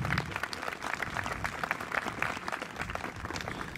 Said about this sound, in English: A round of applause for our Irish representatives.